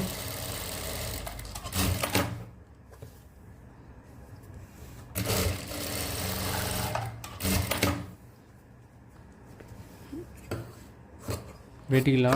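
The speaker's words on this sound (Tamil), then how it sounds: "தையல் போடுங்க." A sewing machine stitches a men's shirt in short close bursts of rapid whirring, with quiet pauses between runs of stitching and a voice talking at times.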